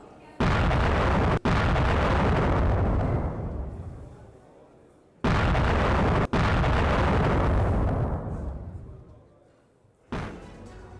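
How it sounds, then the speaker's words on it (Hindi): Storm Shadow missile strike destroying a Russian weapons depot: two heavy blasts, each a sudden loud boom rolling into a long fading rumble, then a third blast beginning at the end, distant-sounding yet powerful. "यूक्रेन के मिसाइल हमले में रूसी हथियार डिपो तबाह हो गया।"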